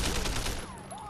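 A quick burst of rapid gunfire in the video game Sleeping Dogs crackles loudly for about half a second, then fades into quieter game ambience.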